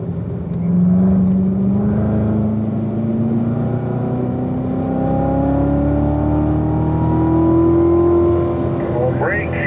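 A Corvette driving on a race track during driving-school training, its engine droning steadily from inside the cabin with rising and falling pitch as it accelerates and eases off through a curve.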